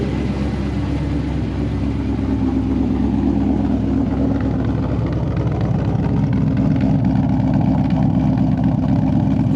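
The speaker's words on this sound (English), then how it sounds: "Starting to get some nice cammed idle back. Really missed that sound." A cammed, Whipple-supercharged Shelby GT500 idles after six months of winter storage, its loud, continuous rumble holding steady and close throughout with no talk over it.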